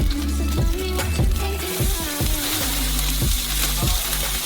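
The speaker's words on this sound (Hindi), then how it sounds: "अगला होगा बेकन। इसे फ्राइंग पैन में भेजते हैं।" Bacon frying in a frying pan, a loud continuous sizzle and crackle with repeated clacks of a utensil moving the strips, close and alone.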